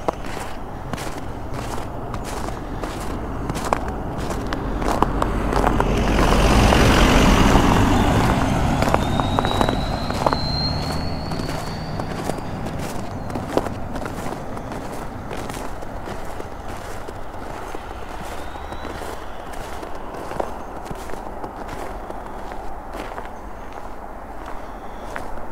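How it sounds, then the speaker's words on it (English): Footsteps crunch through snow at a steady walking pace outdoors, close and continuous, with a vehicle swelling past in the distance partway through. "Yep, there's some crunching snow for you guys."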